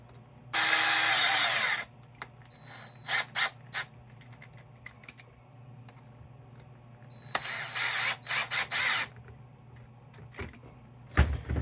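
Power tool driving a screw during a racing parts install, with two loud whirring bursts separated by short clicks and ratcheting clatter, close and otherwise quiet.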